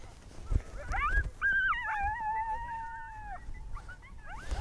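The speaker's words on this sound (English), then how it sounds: "those are coyotes" Coyotes howling and yipping outdoors, a few rising and wavering wails that overlap and hold for over a second, moderately near against faint background noise.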